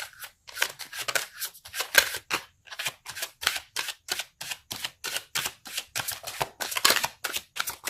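Tarot cards being drawn and shuffled by hand, a quick run of crisp papery snaps and flicks in an uneven rhythm, close and fairly quiet, with no talking.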